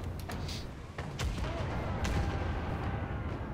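Royal Bronze cannons firing in the Pillars of Eternity 2: Deadfire video game, a run of sharp booming blasts over a steady rumbling bed, loud and close.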